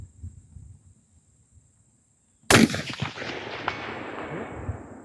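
A Palmetto AR-15 rifle fires a single sharp, loud report on a 300-yard range, followed by a long rolling echo that fades slowly, after quiet low background rumble.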